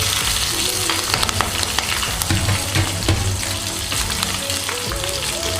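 Green chillies fry in hot oil for rava kichadi, giving a continuous crackling sizzle with bursts of popping and the occasional stirring clink.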